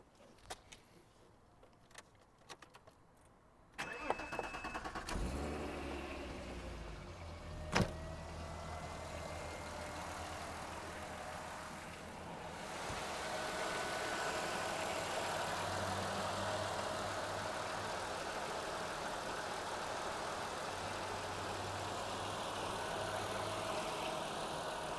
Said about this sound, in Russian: Можно завести, чтобы было поэффектнее.